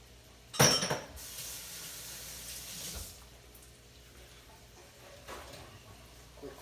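Tap water running in a kitchen sink for a quick rinse while making bananas foster ice cream: a clink starts it, then a steady hissing stream for about two seconds that fades to a softer trickle, close by.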